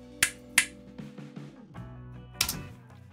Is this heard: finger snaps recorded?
yes